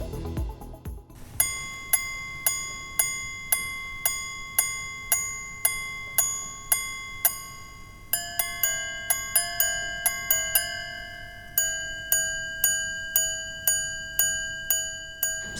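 A Bvlgari chiming watch strikes a new melody: after a brief handling rustle, clear metallic gong notes ring out one after another in a steady, bell-like sequence, with layered tones and long ringing decay, close and alone with no talk.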